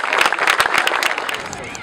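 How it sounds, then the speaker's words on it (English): Crowd at a children's play-and-learn event in Sunyani clapping for footballer Afriyie Acquah, a burst of loud, dense hand claps that thins out toward the end, with a voice heard over it. "Let's clap for him."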